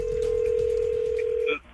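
A telephone line for a prank call gives a steady dial tone that holds for over a second, then breaks into a few short dialing beeps before cutting off.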